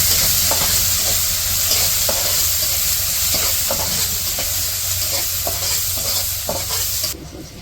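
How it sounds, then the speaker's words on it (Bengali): Onions and green chillies fry in oil in a wok during village cooking, giving a steady close sizzle with repeated stirring scrapes throughout and no talking. "কড়াইয়ে তেল দিয়ে দিছে আর দিছে পেঁয়াজ"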